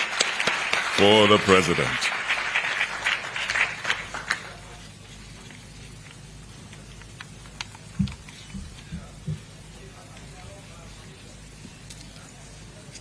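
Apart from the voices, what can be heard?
audience applause after bill signing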